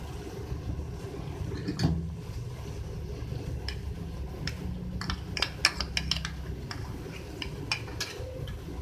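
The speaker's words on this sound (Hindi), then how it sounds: "गोश्त में ऐड करने के बाद लहसुन अदरक का पेस्ट आप इसको भून लें" Beef fries in a pot with garlic ginger paste, bay leaves, cloves, cardamom and cinnamon, making a steady, moderate sizzle broken by occasional sharp clinks of a spoon against the pot.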